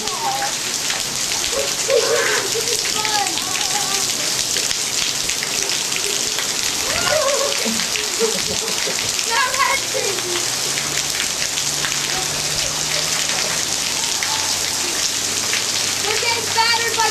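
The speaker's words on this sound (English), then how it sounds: "As you see, it's really pouring down here." Heavy tropical-storm rain pours down steadily and loudly outdoors, a dense continuous hiss with scattered nearby drips and splashes, with people talking occasionally over it.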